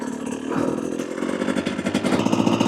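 Upgraded 2024 Husqvarna TE250 TBI dirt bike with an FMF exhaust idling close by, a steady loud engine drone with a rapid uneven throb that grows slightly stronger partway through.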